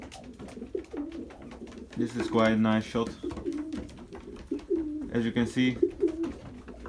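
Pigeons coo in bursts around 18-day-old young birds in a loft, with low rolling calls close by under someone talking throughout.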